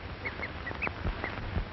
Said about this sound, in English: A cheetah slinks off, uttering his odd bird-like call.